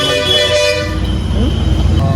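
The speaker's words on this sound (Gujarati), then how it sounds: "હોરન" At the Keshod Sunday market, a loud, sustained vehicle horn blares close by, then fades into the rumble of passing traffic.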